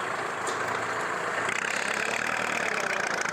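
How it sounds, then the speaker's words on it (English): A tractor engine runs steadily while pushing soil around on a lemon orchard being cleared, a continuous mid-pitched diesel drone with a slight knocking texture, close and unbroken. "tractors just pushing soil around"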